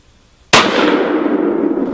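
One sharp, very loud rifle shot cracks out during a Wisconsin deer hunt, its boom rolling away in a long fading echo across open woods.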